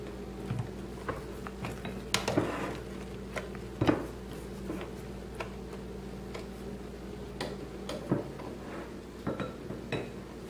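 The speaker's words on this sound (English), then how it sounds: "I'm just going to give the bowl a nice scrape" A spatula scrapes around a mixing bowl of cupcake batter, giving soft irregular scuffs and light clicks against the bowl, close but quiet.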